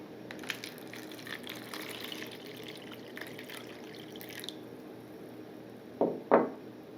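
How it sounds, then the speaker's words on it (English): Water splashes and runs into a container at low level for several seconds, then two short, louder splashy bursts near the end. "we add water"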